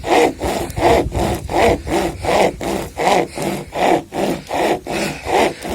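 Steady back-and-forth strokes of a hand saw cutting through wood for a campfire by a lake, about a dozen rhythmic rasping pulls close by, with no talking.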